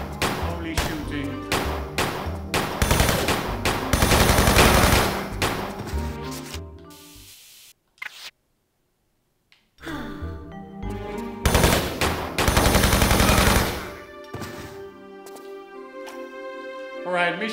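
Enemy gunfire in Tomb Raider Remastered: dense bursts of rapid automatic shots, loud and close, broken by a brief silent gap, then further volleys that trail off into sharper echoing reports.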